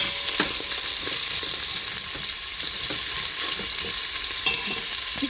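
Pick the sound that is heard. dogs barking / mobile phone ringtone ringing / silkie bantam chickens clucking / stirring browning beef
stirring browning beef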